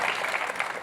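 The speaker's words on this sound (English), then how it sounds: "Now you clap" A brief burst of audience applause at a Centre for Inquiry event with magician Penn Jillette, dense and steady clapping from a crowd throughout.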